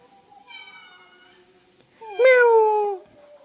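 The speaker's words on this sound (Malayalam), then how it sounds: "പൂച്ച വന്നു പൂച്ച വന്നു" A cat meows twice, first a soft drawn-out call, then a louder, closer meow that slides downward, with quiet gaps around them.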